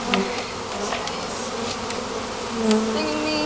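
Honeybees from a shipped package buzz steadily and close by as they are shaken into a hive box, a dense continuous drone with small swells and no talking.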